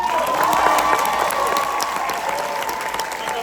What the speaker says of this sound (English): Keep a big Texas and Oklahoma tornado round of applause going for Helen Hunt.